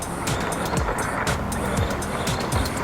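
RC car driving on its first run with an upgraded motor, whining loudly and continuously with rising and falling pitch sweeps and rough scrabbling from the wheels, no talking.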